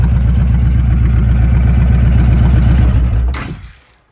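A 2005 Honda VTX 1300R bagger motorcycle idles loudly and close with a steady low, lumpy V-twin pulse, then cuts off abruptly near the end and fades to quiet.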